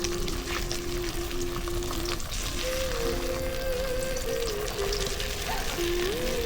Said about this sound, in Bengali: এখন এটাকে ভেজে নেবো